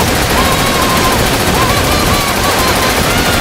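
Rapid, continuous gunfire from Shadow's gun in the video game Shadow the Hedgehog, loud and sustained through the whole stretch, layered with game effects and tonal blips.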